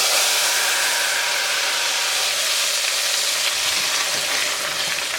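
Hot baghar of oil and spices poured over potato and tomato daal, giving a steady, loud broadband sizzle that holds evenly for several seconds with no talking.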